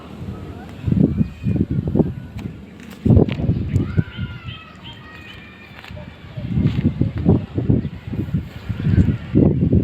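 Strong gusty wind buffets the microphone outdoors near a beach, rumbling in heavy bursts while people talk over it, with a few faint bird calls in the middle.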